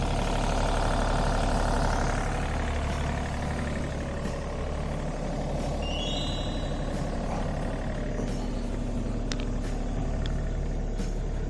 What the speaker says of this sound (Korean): 엔진 소리도 어, 저는 괜찮다고 판단이 됩니다